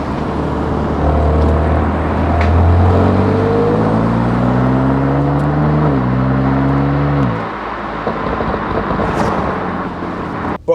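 Car exhaust from a vehicle fitted with a catback system and titanium tips, a steady engine drone that revs upward in pitch, holds, then drops off before a quieter idle, fairly loud and close with no talk.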